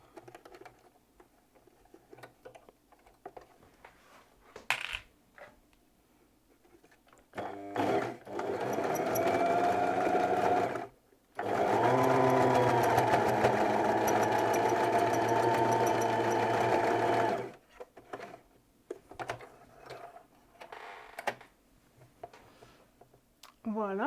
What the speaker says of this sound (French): Et je vais coudre ça dans la marge de couture.